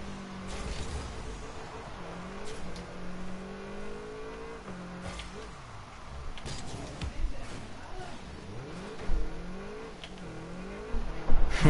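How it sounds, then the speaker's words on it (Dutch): In a ranked Rocket League match, a game car's engine hums and revs continuously, pitch rising and falling with boosts and turns, with occasional louder bursts and impacts near the end. "dat geluidje is het enige mooie aan die auto"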